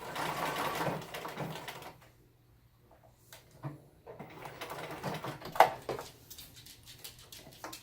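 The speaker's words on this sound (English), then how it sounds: "I'm going to stitch in reverse." A home sewing machine stitching backward on a Halloween costume, bursts of whirring motor at the start and again later, separated by a quiet pause, with small clicks and handling sounds.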